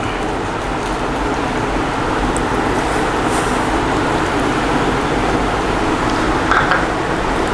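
Curry leaves drop into hot coconut oil in a pan while cooking a Kerala fish fry, giving a loud, dense, steady sizzle that hisses close by without pause.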